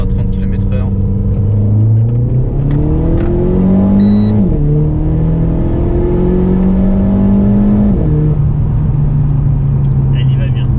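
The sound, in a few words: Renault Sport Clio 4 RS 1.6L accelerating in second gear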